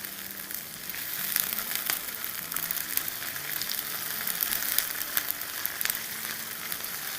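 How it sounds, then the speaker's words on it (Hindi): Onions with garlic paste and ginger paste sizzle steadily in a hot pan, a dense continuous frying hiss with small crackles and occasional stirring scrapes, close up and with no talking. "इसको 30 सेकेंड सौटे करेंगे।"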